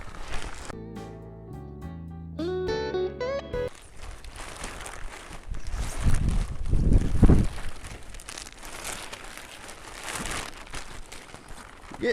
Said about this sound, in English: Getting a little windy out here too today.